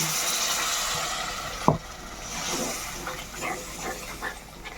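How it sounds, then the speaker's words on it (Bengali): Masala-bowl rinse water splashed into a hot pan of fried spices for an egg curry, a sharp burst of sizzle followed by a steady hissing steam that fades with small crackles. "এবার আমি দিয়ে দিব সামান্য মশলার বাটি ধোয়া জল।"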